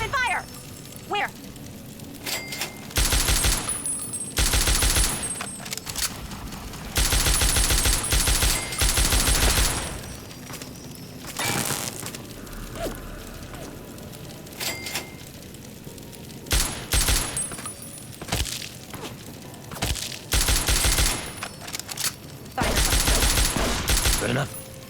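Video game gunfire erupts in bursts during modded Fallout: Tale of Two Wastelands play, rapid volleys of shots coming in clustered blasts separated by quieter gaps.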